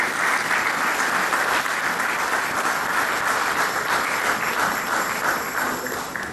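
An audience at a thanksgiving church service in London, held for Angola's independence anniversary, gives dense, sustained applause throughout with no break. The clapping fills the space evenly and eases off slightly near the end.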